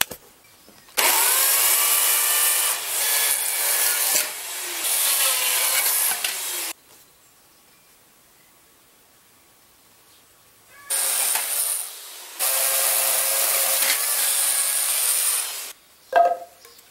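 Hand sawing through wood to build a frame that raises a beehive off the ground, two long bursts of steady rasping strokes separated by a quiet pause, close and loud with no talk.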